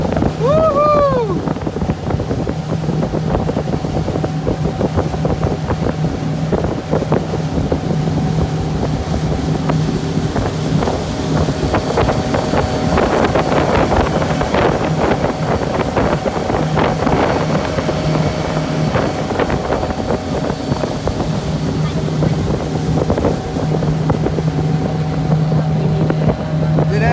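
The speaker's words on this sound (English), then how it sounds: "Đây là thuyền nè" A motorboat runs steadily across open water near Eureka, California, its engine drone continuous and close, mixed with wind buffeting the microphone and occasional voices.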